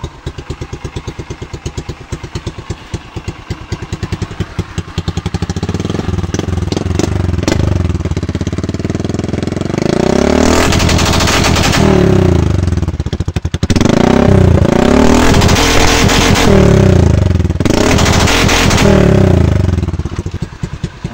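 Motorcycle fitted with a programmable CDI tuned for rapid backfire, idling loudly up close, then revved so the exhaust crackles and pops in dense rapid bursts over a roaring engine, with no voices.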